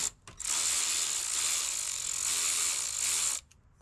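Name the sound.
ratchet loosening 10 mm bolts on Toyota Yaris radiator fill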